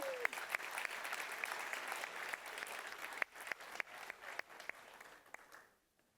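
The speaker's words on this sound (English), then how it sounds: "A round of applause" A conference keynote audience breaks into applause, a broad steady patter of clapping that thins out into scattered individual claps before stopping abruptly.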